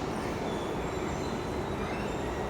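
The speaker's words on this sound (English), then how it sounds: "I guess the train will be pretty full." Rumbling passenger train on a day off, heading to Gornja Rakovica in central Bulgaria, with a steady broadband roar and rail noise throughout, no voices.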